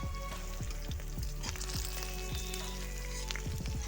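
Torn green chillies with whole garam masala (cardamom, cloves, cinnamon, bay leaf) frying in hot oil, a busy close sizzle punctuated by regular spatter pops and crackles.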